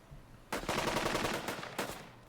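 Gunfire in the WWII North Africa strategy game Burden of Command: after a brief quiet, a sustained, dense burst of rifle and machine-gun fire roars for about two seconds, with a second sharp volley near the end.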